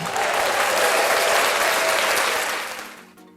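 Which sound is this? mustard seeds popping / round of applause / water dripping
round of applause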